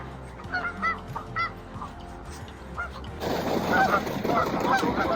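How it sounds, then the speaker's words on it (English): Several geese honk close by in scattered calls, then a louder, denser chorus of honking joins in over a rushing background. "Okay, we have geese."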